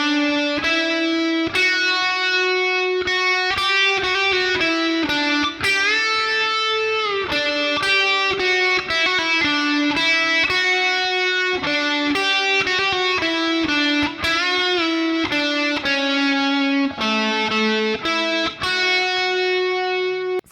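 Electric guitar with a slightly driven tone picking the opening riff of a song, a steady run of ringing arpeggiated notes with a few slides, loud and close with no talking.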